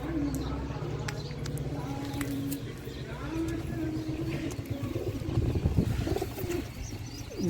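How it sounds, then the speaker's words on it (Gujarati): Domestic pigeons coo in low, repeated rolling calls close by, with scattered chirps and a voice talking over them throughout. "બધા કબૂતરા તો આવી ગયા છે, પણ 2-3 ઉડે છે, એ ઉતરતા નથી"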